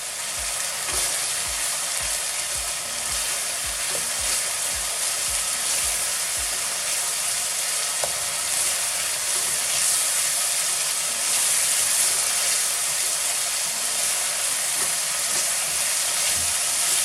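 Spices frying on high heat for a salmon curry give a steady, loud sizzle and hiss throughout, with stirring scrapes early on and no talking.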